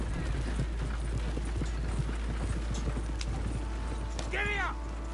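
Horse hooves clatter in a fast, steady clip-clop gallop throughout, in the Red Dead Redemption 2 video game, under constant low rumble, with a brief whinny-like call near the end.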